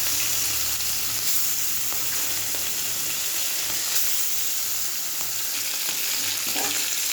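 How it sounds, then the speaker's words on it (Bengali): Bata fish fries in hot oil, giving a continuous, even sizzle and hiss close by, with no voices. "এই যে মাছ ভাজা হয়ে গেছে"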